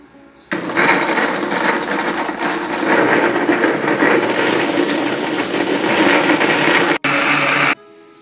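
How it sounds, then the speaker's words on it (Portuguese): A kitchen blender whirs loudly and continuously while blending fresh orange and Tahiti lime juice, starting abruptly, running for about seven seconds with a brief hitch near the end, then cutting off. "Vamos estar agora batendo nosso suco."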